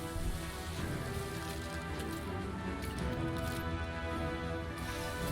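Molten lava raining from the sky in the video game Destiny 2 makes a steady, dense hiss like heavy rain pattering on surfaces, continuous and loud throughout.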